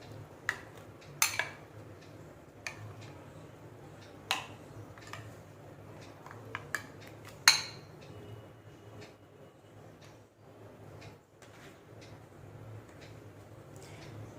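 A spoon mixes chopped fruits, dry fruits and curd in a bowl, giving a quiet, sporadic series of clinks and taps against the dish with soft stirring between them.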